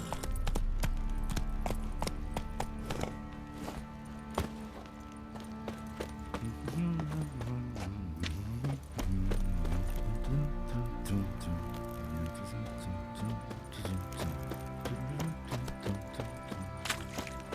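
Horse galloping in The Witcher 3, a steady run of clip-clop hoofbeats close up with game music and ambience layered underneath, continuing throughout.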